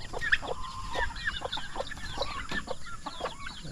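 Turkey and chicken chicks on a farm peep and cheep in short, scattered calls over faint background noise, fairly close and soft.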